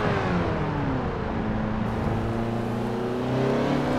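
A Mazda fitted with a racing transmission, driven fast on small roads in Forza Horizon 4: a loud, close engine holds a steady drone, its pitch sweeping smoothly upward, with a brief change in tone around two seconds.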